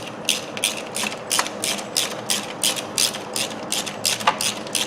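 A hand ratchet clicks in steady, close bursts while threading the upper bolt of a car starter motor, with a quick mechanical rhythm of roughly two strokes per second and no talking.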